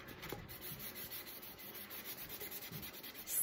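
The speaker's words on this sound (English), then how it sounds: "So, just scuffing this up. Making sure I get the entire cup." Sandpaper scuffing the surface of an epoxy-coated tumbler cup, a steady soft rubbing scratch that continues with small variations in rhythm, close and fairly quiet, with no talking.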